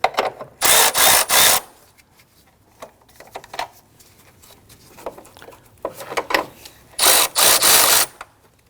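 A ratchet snugs down the battery hold-down bracket on a 2013-2019 Ford Interceptor Utility, giving two close, loud bursts of rapid clicking near the start and end, with quieter handling clatter in between.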